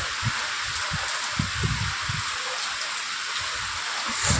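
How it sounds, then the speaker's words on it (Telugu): Rain falls steadily in Nizamabad after a spell of hot weather, a dense, even hiss with soft, irregular low patters of drops, close and continuous, with no voices. "చాలా రోజుల తర్వాత వర్షం వస్తుంది."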